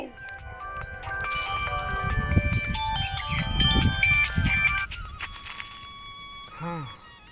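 A mobile phone ringtone plays loudly and continuously for several seconds, a bright repeating melody over a busy background, cutting off near the end as a short vocal sound follows.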